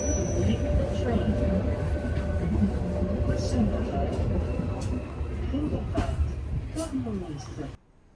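A train pulls into Grindelwald station with a rumbling, rattling run and faint squeals, fairly loud and close, ending abruptly as it stops; a voice speaks over it.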